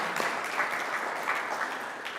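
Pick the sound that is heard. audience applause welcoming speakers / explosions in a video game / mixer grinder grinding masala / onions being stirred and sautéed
audience applause welcoming speakers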